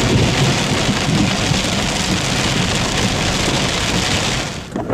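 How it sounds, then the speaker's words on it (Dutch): Heavy rain falls steadily during a Dutch summer thunderstorm, a dense, continuous hiss of drops on surfaces that stays loud and unbroken throughout, with no voices. "Als het goed is, de regendruppels vallen"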